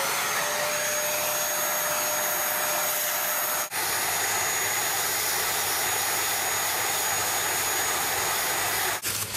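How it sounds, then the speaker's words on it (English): Vacuum cleaner running continuously while cleaning the case of an Acorn BBC Micro Model B home computer, a loud steady whoosh with a couple of brief dips in suction, no voices. "we'll vacuum this off now."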